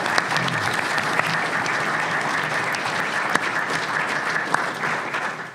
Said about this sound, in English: So if you can join me in thanking them with a round of applause.